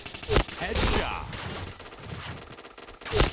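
HK-416 assault rifle firing in the shooter game Point Blank at long range: a few loud, sharp shots or short bursts spaced apart, with faint background game noise between them.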